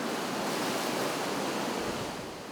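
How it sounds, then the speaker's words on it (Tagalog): Ocean waves surging and roaring inside a sea cave, a loud, dense wash of noise that fills the space evenly and eases off slightly at the end. "Sa loob ng kuweba, lalong dumadagundong ang mga alon."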